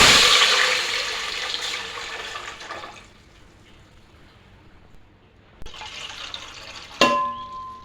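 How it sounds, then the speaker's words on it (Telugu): Water pours into a pan of whole spices, including shahi jeera, frying for chicken biryani. A loud gushing splash lasts about three seconds, followed by a quieter simmer and a few sharp clinks. "అవి కొంచెం మామూలుగా వేగాక దీంట్లోకి వాటర్ యాడ్ చేసేసుకుందామండి"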